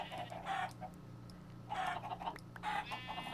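Chickens clucking in a Minecraft-style video game while being herded down, with repeated short clucks in three bursts over a low steady background hum.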